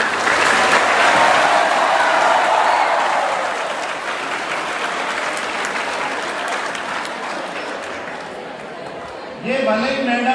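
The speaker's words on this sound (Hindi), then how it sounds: "जोरदार ताली बजाओ" Audience at a Rajasthan police motivational speech applauding, loud sustained clapping that gradually thins out, with a voice starting up near the end.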